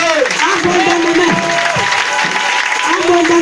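Clapping and acclaiming from a congregation at an Easter church service, continuous applause filling the space while a loud voice calls out over it.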